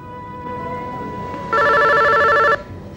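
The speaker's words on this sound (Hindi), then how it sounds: "इस वक्त किसका फोन है?" An electronic telephone bell rings in a single loud, rapid warbling burst of about a second, then cuts off, set against a quiet indoor background.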